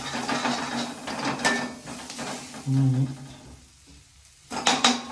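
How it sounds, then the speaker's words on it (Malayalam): Onions sautéing and being stirred in a pan for a chicken masala, with soft sizzling, scraping and clinking of utensil against the pan, a louder stir near the middle and after a brief quiet gap. "ഉള്ളിയൊക്കെ വഴറ്റി സെറ്റായിട്ടുണ്ട്"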